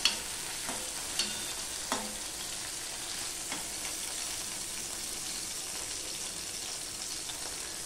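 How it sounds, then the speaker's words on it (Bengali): Bata fish fry in hot oil in a pan, a steady close sizzle with a few sharp clicks and taps of utensils against the pan. "তারপরে মাছগুলোকে আমি 3-4টে করে দিয়ে এপিট ওপিট করে ভেজে নিলাম।"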